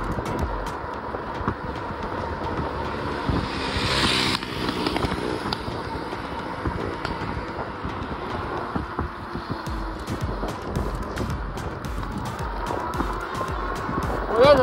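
An Onemile Scrambler electric motorbike rides through a city at night, giving a steady rolling whir under constant wind rush with faint traffic noise, continuous and close.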